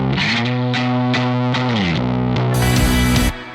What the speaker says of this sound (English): That's it with the tube screamer.